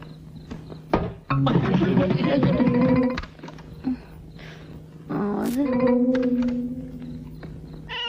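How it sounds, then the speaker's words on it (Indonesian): Loud, drawn-out cat yowls come in two long bouts separated by a short pause, harsh and wavering, close by. "Brengsek kucing."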